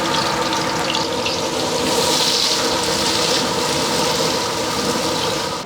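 Chopped onions fry with curry leaves in oil in a large batch for chicken gravy. A loud, steady, continuous sizzling hiss fills the whole clip without talk.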